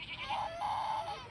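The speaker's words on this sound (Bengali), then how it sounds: "ওই যে ছাগল ডাকতেছে," A goat gives a drawn-out, wavering bleat in two or three pulses, loud and close, with no talking over it.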